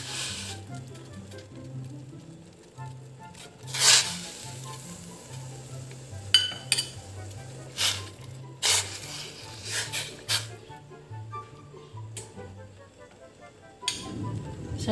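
Milkfish (bangus) goes into a hot pot for sinigang and sizzles loudly, with bursts of frying crackle and spitting that swell and fade over a steady low hum, close up and without talk.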